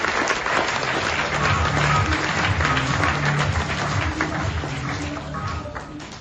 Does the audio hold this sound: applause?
yes